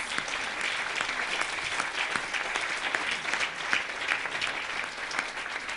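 Sustained applause from a room full of people, dense and even clapping that carries on steadily without letting up.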